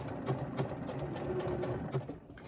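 A sewing machine with a quilt binder attachment stitches binding onto a quilt, running at a steady slow pace with a soft even mechanical whir and light rhythmic ticking, close up.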